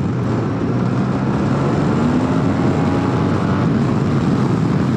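A 2020 Yamaha TMax 560 scooter runs downhill at speed, with a loud, steady engine drone and rushing wind noise close up, its pitch sweeping gently as it goes.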